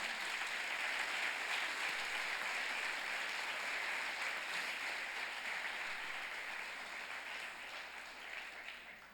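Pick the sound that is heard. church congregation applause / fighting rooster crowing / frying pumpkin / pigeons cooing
church congregation applause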